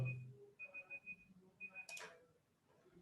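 A timer goes off during an online Magento conference talk, sounding as a series of short, thin electronic beeps in repeated bursts, faint and fairly distant, followed by quieter room noise.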